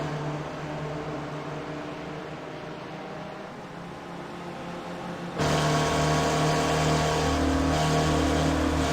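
Spec Racer Ford engine in a sim race at Sebring, a steady drone that drops as the driver lifts off the throttle, then returns louder and fuller as other cars close in, with no talk.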